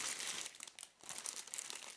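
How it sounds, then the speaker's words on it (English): Clear plastic bag wrapping a cordless kettle base crinkles and rustles close by while being handled and unpacked, continuous with a brief lull midway, no voices. "wrapped in a clear plastic bag, setting that to the side"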